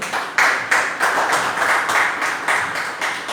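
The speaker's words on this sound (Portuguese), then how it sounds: "E as palmas são de Deus." A church congregation clapping in rhythm at a family service, loud steady claps in even pulses about three per second, carried on without voices.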